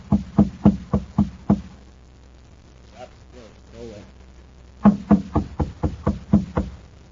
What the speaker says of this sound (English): He knocks at the door.